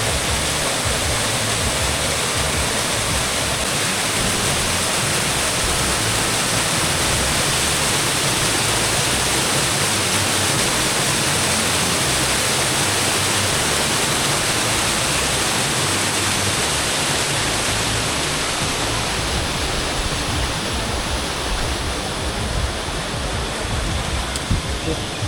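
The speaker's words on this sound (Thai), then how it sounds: "น้ำตกซาดพี่น้องเอ้ย" Waterfall at Nam Tok Sat in a lush Thai forest, a steady, loud broadband rush of falling water that fills the whole stretch without pause.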